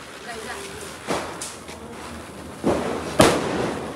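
Diwali firecrackers go off outdoors. Several sharp bangs at irregular intervals rise over a quiet background, with the last crack the loudest, and people talk around them.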